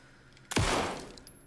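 A single sharp gunshot blast from the video game Alan Wake 2, with a short ringing decay, in an otherwise quiet scene, with no talking.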